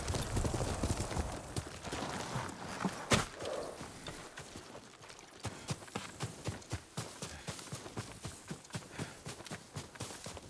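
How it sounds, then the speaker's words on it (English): Horse hooves clip-clop in Ghost of Tsushima, a steady walking rhythm of distinct thuds, fairly faint and close, with a brief louder knock near the start. "Yuriko's horse. She can't be far."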